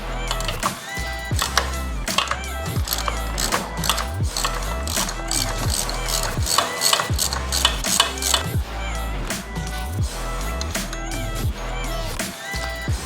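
A ratchet wrench removing the rear brake pedal from a Yamaha YFZ450R quad, rapid rhythmic clicking in repeated bursts, close and loud, with no talk over it.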